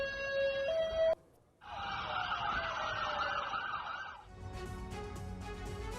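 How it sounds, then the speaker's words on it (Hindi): Air raid sirens wail across an area of northern Israel. One steady tone is followed by a brief gap, then a long rising and falling siren and another overlapping wail, loud and unbroken by voices. "इलाके में सुनाई दी सायरन की आवाजें।"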